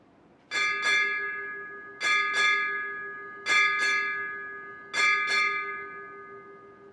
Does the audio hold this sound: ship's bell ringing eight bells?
yes